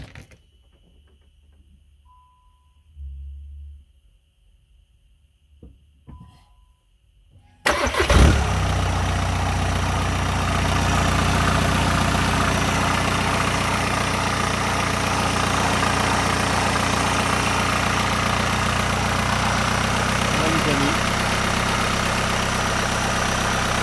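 A Volkswagen Touran's engine, just back from a full overhaul, cranks and fires after a quiet stretch with small clicks, then settles into a steady, even idle that carries on loudly for the remaining fifteen seconds.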